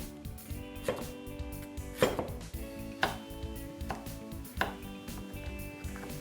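Knife chops carrot into 1.5 cm cubes on a board for beef curry udon, a handful of distinct thuds spaced about a second apart over faint background music.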